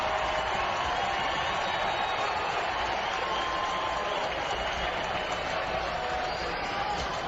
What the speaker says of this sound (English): Round of applause for that stolen base.